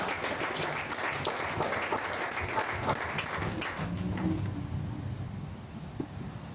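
Church congregation applauding in praise of Jesus, a dense, steady wash of clapping from a crowd that thins toward the end, with faint voices mixed in.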